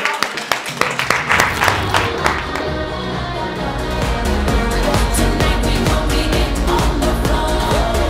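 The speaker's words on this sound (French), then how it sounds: "Bon, c'est moi qui m'applaudis." A man clapping for himself at a private entrepreneurs' mastermind, starting as a few sharp claps that swell into steady, dense applause with music and murmuring underneath, fairly loud and close.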